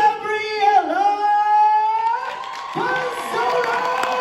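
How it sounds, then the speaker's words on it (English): At a Stranger Things fan convention in Los Angeles, a crowd cheers with high sustained shouts and whoops that rise together, then shift into rougher mixed cheering and clapping, loud and close. "give your voices and your applause for the one, the only, Gabriella"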